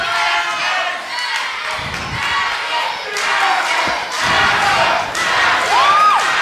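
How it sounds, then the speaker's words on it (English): A wrestling crowd roars and chants in waves throughout, loud and continuous, with occasional thuds and a commentator's voice riding on top. "And listen to this crowd chanting"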